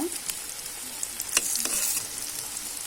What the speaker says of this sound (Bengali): আবার দিয়ে দিলাম এগুলো আবার ভালো করে ভেজে নেব